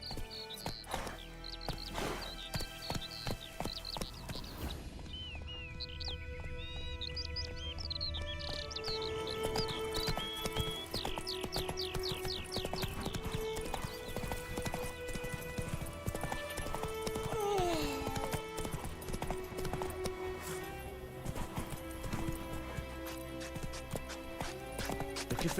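Horse hooves clip-clop in a galloping rhythm in the video game Witcher 3, with a horse neighing and bird chirps over game music, continuous and close.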